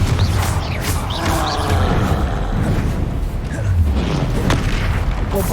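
In Hogwarts Legacy, a Confringo spell explodes in a deep, rumbling boom with crackling bursts and debris, loud and sustained over several seconds amid other game effects.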